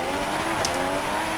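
F1 race car at the start of a race in the F1 2016 video game, holding high revs in first gear: a loud, steady engine drone over the whole stretch, with no talk.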